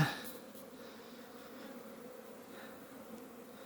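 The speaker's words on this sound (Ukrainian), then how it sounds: "Молода бджола йде на обліт, стара собі на прогулку." Steady, soft buzzing from many honeybees flying around a hive entrance, droning together in a continuous low hum with no talking.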